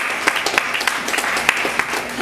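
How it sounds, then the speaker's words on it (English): A church congregation claps in praise during a sermon, a steady crowd of hands with several sharper, louder claps punctuating the dense applause at irregular intervals, continuous and fairly close. "Let's give Him a clap of praise."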